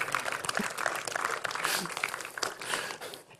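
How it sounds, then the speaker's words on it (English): A small audience gives a short burst of clapping, dense and mid-loud, after a Lego motor driven by a Raspberry Pi begins to move, fading out at the end. "It's great to get a round of applause for making a motor move."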